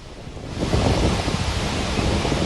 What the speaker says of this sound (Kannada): ಈಗಲೂ ಕೂಡ ಮೈದುಂಬಿ ಹರಿತಾ ಇದೆ ಗೋಕಾಕ್ ಫಾಲ್ಸ್